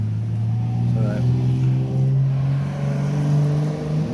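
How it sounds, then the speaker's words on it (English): A 1975 Honda XL100 motorcycle engine revs up and down through its gears, a loud close drone whose pitch climbs and falls, with a voice briefly heard. "Just using the revs to change gear"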